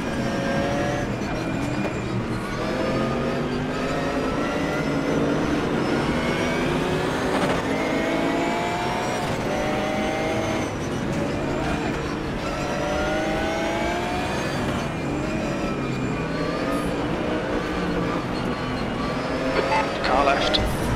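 GT3 race car engines at a rolling start in the Raceroom racing game, several cars revving and shifting together in a loud, continuous snarl of rising and falling pitch, with a voice talking over the engines.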